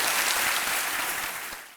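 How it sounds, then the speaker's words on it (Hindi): Studio audience applause on a televised quiz show, loud and dense clapping from the start that fades out toward the end of the short burst. "चलिए ताली बज जाती है इसके ऊपर।"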